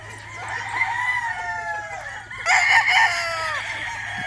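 Young roosters and hens on a Filipino farm crow and cluck loudly, several overlapping calls rising and falling, with a stronger crow bursting in midway.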